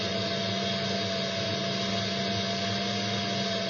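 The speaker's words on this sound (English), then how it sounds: "the motor keeps speeding up and slowing down, so I think the armature is going bad." A Tyco slot car motor with a suspected failing armature whines continuously, a steady electric buzz at close range whose pitch wavers slightly as it surges and slows.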